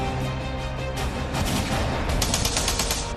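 A dense barrage of gunfire plays as a sound effect behind a Hindi news report on a night shootout in Kanpur. The rapid, continuous shots stay loud and steady throughout with no gaps.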